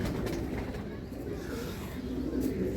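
Racing pigeons, young birds just released, coo steadily in a loft, a low continuous murmur of several birds filling the whole stretch at moderate level.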